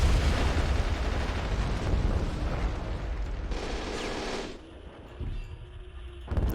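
Tanks blasting away in a Men of War: Assault Squad battle at Stalingrad in 1943, with heavy rumbling explosions and gunfire rolling continuously, then thinning into scattered bursts and a final boom.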